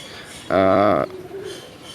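A single local Bangladeshi pigeon coos once in a loud, throaty, harmonic call lasting about half a second, then a quieter low murmur trails off.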